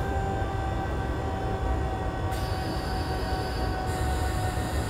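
S-Bahn train in Train Simulator 2020 on the Leipzig to Bitterfeld line, slowing under braking with a steady loud rumble of wheels on rails and faint high squeal tones.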